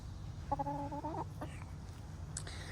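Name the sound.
chicken clucking in garden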